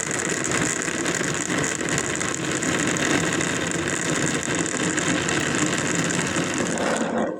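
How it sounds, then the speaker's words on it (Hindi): An electric blender running steadily while blending falsa juice, a continuous loud whirring grind that holds even for several seconds and then cuts off at the end. "मशीन चलाएंगे अब और ब्लेंड कर लेंगे।"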